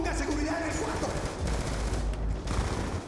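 Dense automatic gunfire in Call of Duty: Black Ops 2 rattles continuously and loudly, with bursts overlapping against game background noise.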